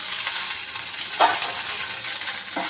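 Whole chilies dropped into hot oil for a ridge gourd chutney, a steady broadband sizzle throughout with two brief louder bursts of crackling as they hit the pan, close and alone without voices.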